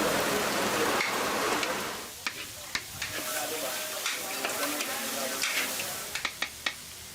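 Sliced beef offal sautéing in a pan with garlic, onion and black pepper makes a dense, hissing sizzle that settles into a steadier fry with scattered pops and scraping stirs.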